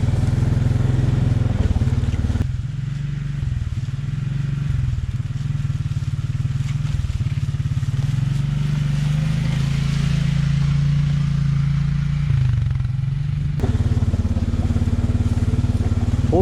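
Can-Am Outlander 500 DPS ATV rolling downhill in high range under engine braking, a steady low engine drone close up with rumbling, clattering tire and suspension noise throughout, slightly easing at times.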